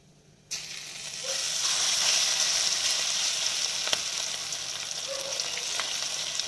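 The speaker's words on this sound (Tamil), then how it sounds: "இப்போ இதையும் அதே மாதிரி நல்லா ஃப்ரை பண்ணி எடுத்துகிட்டு உங்களுக்கு காமிக்கிறேன்." A second batch of chicken for honey chicken goes into hot oil for deep frying, bursting into a loud, close, continuous sizzle and crackle that holds steady after a quiet start, with occasional sharp pops.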